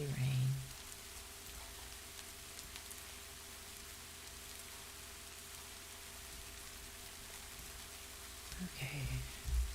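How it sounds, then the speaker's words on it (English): Steady rain sound effect played back over a quiet room, a constant soft hiss of falling drops with faint low hum beneath, brief bumps and a short voice near the start and end. "Here's the rain."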